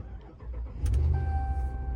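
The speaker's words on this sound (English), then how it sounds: "once we push the start button and hold it down, our starter will engage" A car engine cranks briefly through the starter and catches after a keyless push-button start, settling into a low steady idle close by with a thin electronic tone above it.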